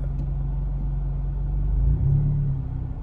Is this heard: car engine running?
yes